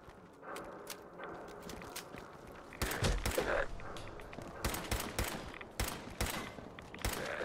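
Rapid bursts of gunfire in VATS combat in the video game Fallout 4, fairly faint, with sharp shots and volleys spread throughout, a heavier cluster near the middle and more toward the end.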